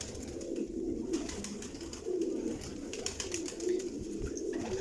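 Kamagar pigeons coo close by in a series of low, rolling bursts separated by brief pauses, with scattered clicks and faint background rustle but no voices.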